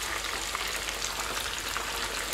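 Chicken pieces frying in oil in a pan for Vietnamese curry chicken, a continuous dense crackling sizzle at close range with no voices over it.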